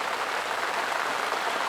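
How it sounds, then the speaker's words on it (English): Heavy rain pelts the surface of a fishing lake in a dense, steady hiss with no distinct drops or pauses, close and fairly loud over a couple of seconds. "Bit of heavy rain hitting the lake"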